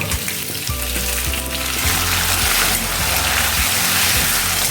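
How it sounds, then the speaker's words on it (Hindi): Two medium-size tomatoes hitting a hot pan with crushed green chilli and ginger for khichdi sabzi, a loud, steady sizzle and crackle of frying that swells after the first second and carries on alone. "अब हम इसमें डालेंगे 2 मीडियम साइज के टमाटर,"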